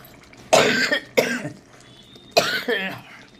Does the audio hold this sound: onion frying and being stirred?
no